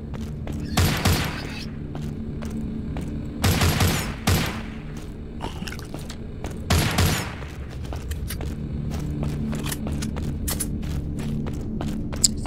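Gunfire in the zombie shooter game The Walking Zombie 2, with repeated bursts of rapid shots at intervals between scattered single reports and a steady background hum.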